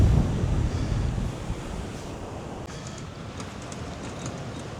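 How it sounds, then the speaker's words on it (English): Steady wash of ocean surf, softened by a breakwater, rolls in at El Camison Beach, Tenerife, mixed with gusty wind buffeting the microphone; no voices. "because they've got that water break out there, it does reduce the waves coming in"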